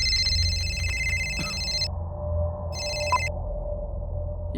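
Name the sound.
telephone ringing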